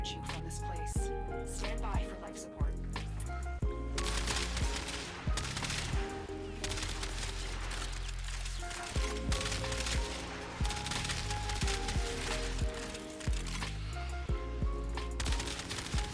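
Catchmoon primary kitgun firing in the Warframe video game, rapid repeated blasts and impacts layered over loud game music, continuous and dense throughout.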